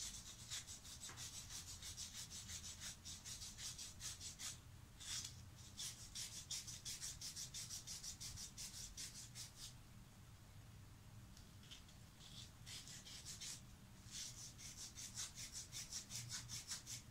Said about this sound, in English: Did a light sanding on each side.